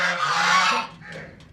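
Domestic ducks kept at home give a loud, harsh honking quack close by, one long call followed by a couple of shorter, fainter ones.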